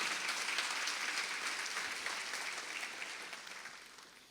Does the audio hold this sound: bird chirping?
no